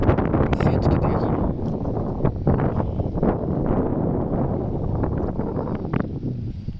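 Strong wind roars and buffets steadily at a dam outdoors, a dense, continuous rush with no one speaking.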